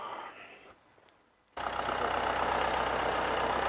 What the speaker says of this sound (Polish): tak właśnie pracuje silnik